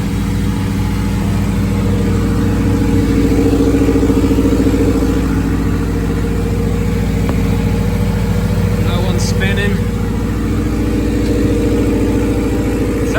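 A turbocharged B18-engined VW Beetle idles steadily on a dyno, its loud, constant engine drone running throughout while a voice speaks over it.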